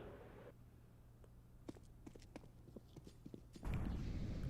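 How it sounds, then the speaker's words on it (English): Footsteps in CS:GO on the Mirage map, a steady run of soft, quick thuds over quiet game ambience, followed by a burst of louder noise near the end. "Kia's gonna hear those footsteps."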